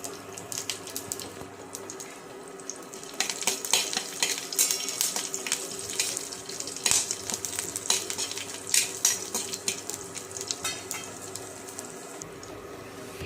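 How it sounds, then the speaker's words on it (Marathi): Chopped garlic pieces sauté in hot oil until golden for a spicy okra stir-fry. A continuous close sizzle with irregular stirring clicks and scrapes builds in the middle, with no talking. "लगेचच आपण कापलेले लसूणचे तुकडे घालून घेऊ आणि छान असं सोनेरी रंगावर परतून घेऊ"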